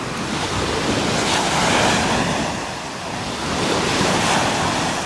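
Ocean surf washing steadily onto the shore, swelling and receding, with wind buffeting the microphone throughout.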